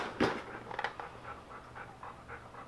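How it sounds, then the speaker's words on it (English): Dogs pant faintly with a steady, quick rhythm while lounging nearby, with no talking over them. "my dogs are just hanging out right here watching us"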